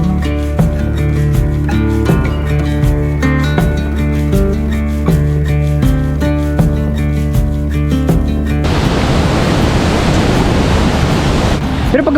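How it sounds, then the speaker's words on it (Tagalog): Strong rushing water at Caliraya, a man-made lake, swollen after overnight rain. It starts behind loud rhythmic music, then takes over as a dense, steady roar for the last few seconds. "Ganyan kalakas ang tubig ngayon kasi umulan daw kagabi."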